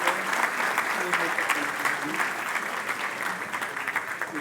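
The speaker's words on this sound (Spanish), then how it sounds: "Un aplauso fuerte" Strong sustained applause from a church congregation standing during a Spanish-language service, dense clapping steady and loud throughout with a faint voice underneath.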